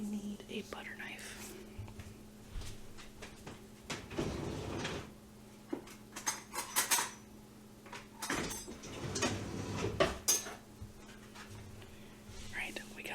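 A butter knife is fished out from among cutlery and dishes in a kitchen while preparing lunch, with metallic clinks and rattles and a few drawer and cupboard knocks, under soft whispering.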